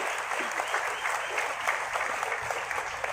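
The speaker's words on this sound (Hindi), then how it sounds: "जोरदार जोरदार जोरदार तालियां चाहिए" Steady audience applause at a celebration event in Chandrapur, a dense wash of many hands clapping at a fairly even level throughout, with no voices standing out above it.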